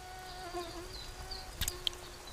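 Mosquito flying, a faint thin whine drifting in pitch, with a few brief sharp ticks near the end.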